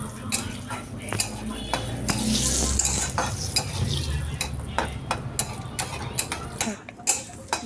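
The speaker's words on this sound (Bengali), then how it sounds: "2 মিনিট ভাজা হয়ে গেছে" Whole cumin seeds crackle and sizzle in hot oil while a utensil scrapes and taps the pan repeatedly at an uneven rhythm.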